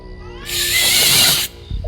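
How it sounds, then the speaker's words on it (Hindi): A cat lets out a single loud, harsh screech lasting about a second, close by and alone, heard from outside a side window at night. "अचानक फिर से मुझे साइड वाली खिड़की से वही बिल्ली के चिल्लाने की आवाज सुनाई दी"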